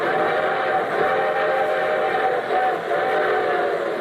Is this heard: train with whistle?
yes